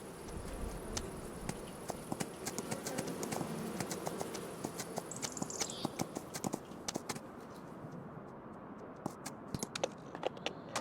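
Hooves clip-clopping in quick, steady beats as a horse is ridden in Farming Simulator 25, sharp repeated hits over a continuous low ambient bed.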